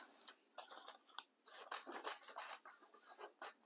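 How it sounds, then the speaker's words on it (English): Scissors make a run of close, quiet snips and rasps as they cut through paper for a handmade Valentine's flower card. The cuts come in quick irregular bursts with brief pauses between them. "just do a very large cut, but make sure not to cut the hold piece"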